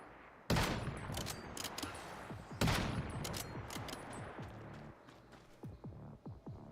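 Gunfire in the survival shooter game Once Human: two sharp nearby shots open bursts of rapid, rolling distant fire that continues steadily throughout, with scattered echoing cracks and no talk.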